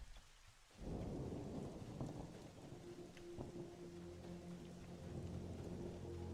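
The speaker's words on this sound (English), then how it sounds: "Is it just a storm coming in?" A thunderstorm rolls in within the video game Monsters and Memories: a sudden low rumble of thunder opens, then steady rain patters on and on, with further faint thunder under the downpour.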